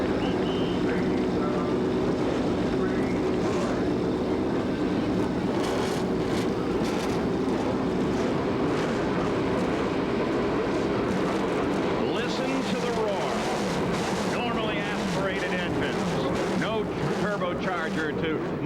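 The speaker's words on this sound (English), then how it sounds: "It's been 30 years since we've heard those unmuted exhaust pipes here." A field of 1997 Indianapolis 500 race cars with unmuted exhausts fire up together at the speedway, a dense, continuous, roaring engine din that swells over the whole stretch while an announcer talks over it.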